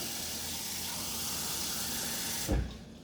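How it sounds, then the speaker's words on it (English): Hot tap water runs steadily from a kitchen faucet, a close, even hiss that stops abruptly near the end with a brief low thump. "it can just be regular hot water out of the faucet"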